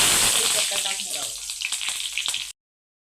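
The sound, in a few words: stuffed bell peppers sautéing in a pan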